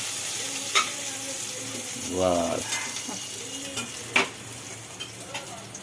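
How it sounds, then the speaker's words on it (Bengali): Prawns frying in hot oil in a kadai, with a soft steady sizzle and a few scraping stirs and clinks of a utensil, close by and moderately quiet. "ভাজো চিংড়ি মাছগুলো ভাজা হয়ে গেল"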